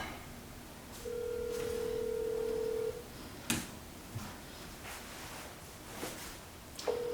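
A telephone sounds a steady tone for about two seconds, then a short tone returns near the end, with faint handling clicks and rustles between, close and moderately loud.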